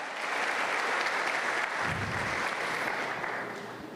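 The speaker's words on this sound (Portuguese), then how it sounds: "Podemos aplaudir Jesus?" A church congregation applauding during a Pentecostal service, dense sustained clapping from many people that swells slightly midway and then tapers off.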